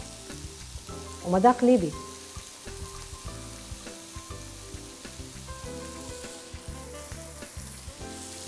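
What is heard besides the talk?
chicken kofta frying in a pan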